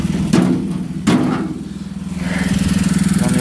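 An old John Deere tractor engine runs close by at a steady idle with a slight tick, its rhythmic low chug briefly interrupted by two sharp knocks before settling into an even beat.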